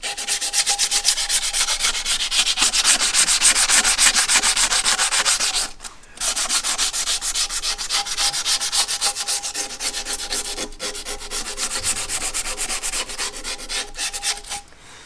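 Wet-and-dry abrasive paper wetted with light oil rubs around a Massey Ferguson 35 tractor's PTO lever during an oil seal change: continuous, close, scratchy back-and-forth rubbing with one brief pause.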